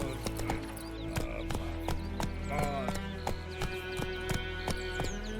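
A horse gallops in The Witcher 3, its hooves clip-clopping in a steady, close, rhythmic beat throughout, with voices speaking over the hoofbeats.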